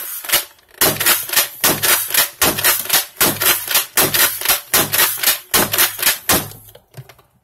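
Lanard X-Stream Speedloader toy blaster with a new plunger head firing repeatedly, a rapid string of sharp snapping shots in a fast, slightly uneven rhythm, loud and close, continuing for about seven seconds.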